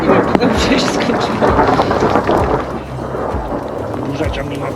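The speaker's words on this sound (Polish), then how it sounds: "Burza ciągle nad nami się przewala." Low rumbling thunder rolls on under steady rain and gusty wind buffeting the microphone, loud and continuous, a thunderstorm in a valley in Bosnia and Herzegovina.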